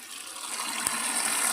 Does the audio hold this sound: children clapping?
no